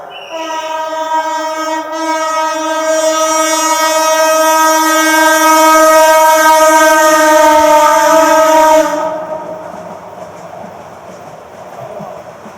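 A train passes close by, its loud horn blaring steadily for about nine seconds over rumbling, clattering wheels, then the horn stops and the rolling noise fades as the train moves away.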